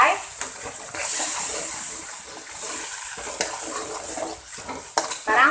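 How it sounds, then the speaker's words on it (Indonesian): Betawi lontong sayur spice paste sizzles in a pan with bay leaves, lime leaves and lemongrass while being stirred, a hissing fry with scraping strokes and clinks of the utensil, moderately loud and close. "Sekarang tinggal kita tumis bumbunya sampai matang."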